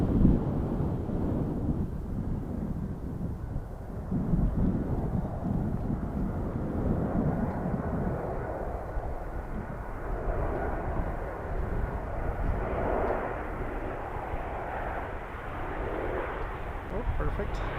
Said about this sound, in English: This is WestJet arriving from Winnipeg.